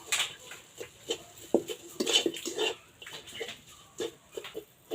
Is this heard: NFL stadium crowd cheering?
no